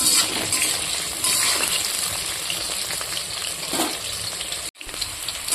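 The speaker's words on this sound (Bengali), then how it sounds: "ওদিকে বসিয়ে দিয়েছি ভাজার জন্য মিষ্টি কুমড় আর আলু এটা হালকা করে আমি ফ্রাই করে নেব" Pumpkin and potato pieces frying in a pan, giving a steady close sizzle with occasional stirring clatter and one brief sharp cut in the sound.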